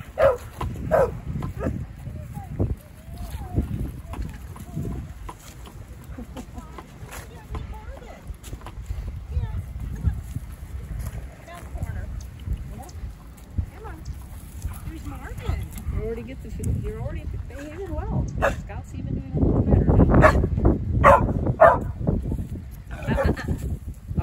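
A puppy yips and barks repeatedly in playful bursts, with people talking throughout and some rustling, growing busier near the end.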